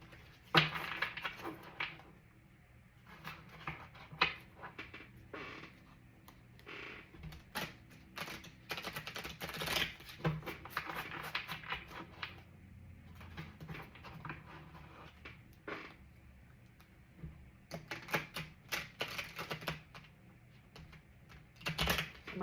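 Irregular papery riffling and soft clatter of oracle cards being shuffled in bursts, with brief pauses between rounds of shuffling; no voices.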